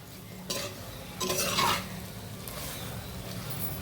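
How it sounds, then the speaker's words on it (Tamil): Roasted masala for an amla pachadi frying in oil, with a soft steady sizzle and a few louder bursts of stirring and scraping against the pan, close and fairly quiet, with no voices. "இந்த எண்ணெய் கொஞ்சம் நமக்கு விடுற அளவுக்கு இது வறுக்கணும்"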